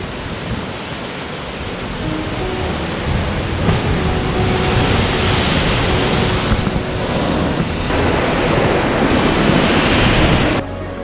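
Loud, continuous surf of ocean waves crashing and rolling on a beach with cliffs in Sumba, Indonesia, a broad steady roar with swells rising and falling and no voices.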